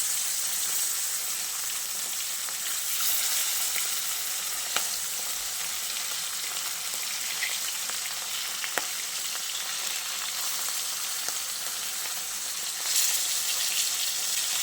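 Katla fish pieces frying in hot oil in a wok give a continuous close sizzle and hiss, broken by a few sharp crackles and pops, with no talking.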